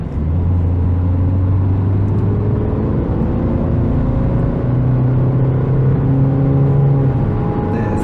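A Citroën C3 Aircross small SUV accelerates from cruising speed, engine note rising steadily through a loud cabin drone with road rumble underneath, continuous with no talking.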